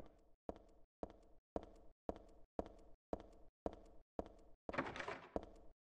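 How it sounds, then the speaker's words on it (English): A locked door in Silent Hill 3 is tried again and again, about ten crisp, evenly timed rattling clunks up close, with one longer noisy shake toward the end. "Another locked door."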